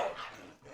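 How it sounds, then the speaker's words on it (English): A dog gives a single short bark at night, sharp and fairly close, fading quickly into quiet. "The dogs are wild tonight."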